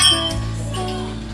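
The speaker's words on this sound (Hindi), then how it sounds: "और पूरी मंदिर में ये पूरी घंटी घंटी घंटी" Many metal temple bells hang at Ghorakhal temple near Nainital and ring as visitors strike them. One close, loud ring starts, and its long metallic tones keep sounding and slowly fading.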